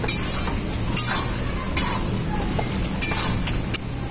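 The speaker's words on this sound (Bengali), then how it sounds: "চিনিটা দিয়ে অল্প একটু নাড়াচাড়া করে নেব।" Bottle gourd and shrimp curry being stirred in a pan after sugar is added, with a steady low sizzle and a few sharp clinks of a spoon against the pan at irregular intervals.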